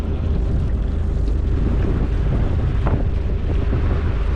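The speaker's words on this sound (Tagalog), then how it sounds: "Ayan, pasok pa rin yung hangin, no?" Steady, heavy wind buffets the microphone throughout, a constant low roar with no voices, in a mangrove area surrounded by large mountains.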